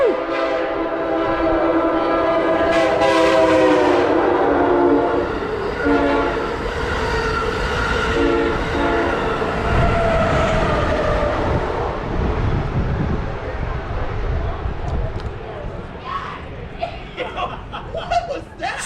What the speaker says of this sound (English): welcome to fast trains that go through the station as well.